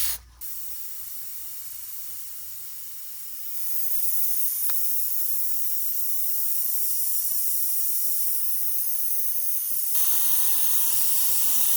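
An airbrush sprays paint in a steady, continuous hiss that grows stronger after a few seconds and holds, close and alone with no talking.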